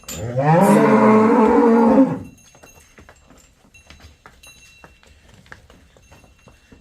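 A dairy cow gives one long, loud moo lasting about two seconds, then only faint background rustling and clatter remain.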